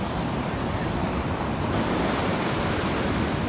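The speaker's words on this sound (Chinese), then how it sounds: "看那个海浪一波一波的" Ocean surf rolls onto Moon Bay beach in Hainan at high tide, a loud, continuous roar of breaking waves mixed with gusty wind noise.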